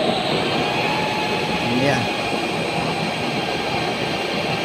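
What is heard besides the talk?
blower fanning a cooking fire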